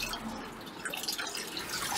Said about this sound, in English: Here we have the water falling down.